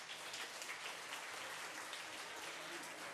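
Applause for schoolchildren contestants on a Spanish quiz show fills the room as a steady, dense patter of clapping, faint and continuous throughout.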